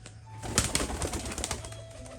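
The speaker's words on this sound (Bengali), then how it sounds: "ডানার কিন্তু খুব সুন্দর আওয়াজ আছে পায়রাগুলোর, একদম পুরো ক্যাপ ফোটার মতো কিন্তু আওয়াজ হচ্ছে" Tumbler pigeons' wings clap in quick sharp snaps like popping caps, a cluster of close crisp claps over a steady background hum.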